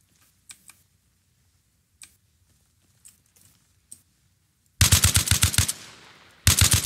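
Loud automatic gunfire in the Arma Reforger video game, a rapid burst after several faint scattered clicks, a brief pause, then a second burst starting up.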